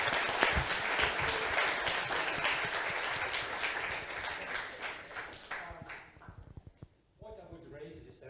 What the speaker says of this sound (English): Peter, and I think we should give a round of applause to Vincent and Peter